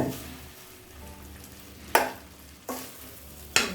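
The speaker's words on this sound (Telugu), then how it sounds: "ఇప్పుడు నేను ఇది మిక్స్ చేసేస్తున్నాను" Pulihora mixture being stirred in a pan with the gas just switched off, three distinct spoon scrapes landing at roughly even intervals over a faint residual sizzle, close and clear with no talking.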